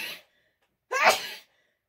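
A person sneezes twice in quick succession, the first cut short at the start and the second a loud, close, explosive burst, with silence between.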